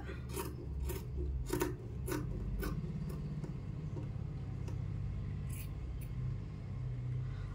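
Scissors snip through blouse fabric in a quick, steady run of close, crisp cuts, then a few more spaced snips over a constant low background rumble.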